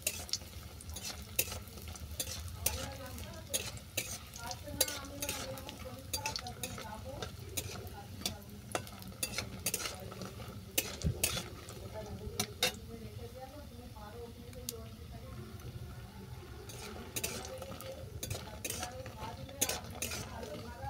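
Ash gourd vadi (kumro bori) frying in hot oil, a steady close sizzle running throughout with frequent sharp clinks and scrapes of a utensil stirring in the pan.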